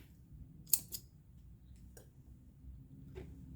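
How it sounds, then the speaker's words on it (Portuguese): Two quick snips of scissors cutting crochet yarn at close range, a sharp pair near the start followed by a couple of faint softer clicks, over a quiet low room hum. "vou cortar meu fio"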